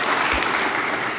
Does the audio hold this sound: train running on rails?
no